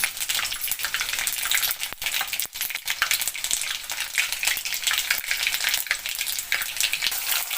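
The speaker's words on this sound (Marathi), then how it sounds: "फोड़ने द्यायचे जिरं मोहरी लसूण" Cumin, mustard seeds and garlic crackle loudly in hot tempering oil on a gas stove, a dense, steady sizzle with sharp pops and spatters scattered throughout, close and without voices.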